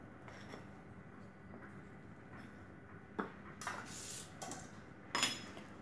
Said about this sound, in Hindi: सारे ड्राई फ्रूट्स को अच्छी तरह से मिक्स कर लेती हूँ।